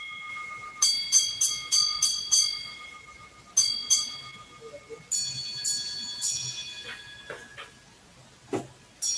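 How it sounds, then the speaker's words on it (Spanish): A small handbell on a ship rings in quick clusters of bright, ringing strokes with uneven spacing and pauses, the struck tones lingering over a quiet background. "Hace mal los golpes de campanilla"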